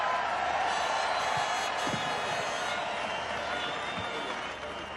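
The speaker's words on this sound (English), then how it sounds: "Give a big cheer to Luis." A large crowd of Formula 1 fans cheers and roars continuously at the British Grand Prix after a Lewis Hamilton victory, a steady distant wash of noise that fades slightly near the end.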